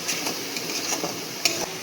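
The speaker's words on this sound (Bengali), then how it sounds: "পেঁয়াজ রসুনটা একটু ভাজা ভাজা হয়ে যায়" Onion and garlic paste fry in a pan with a soft constant sizzle, broken by light scraping and tapping as a spoon stirs them.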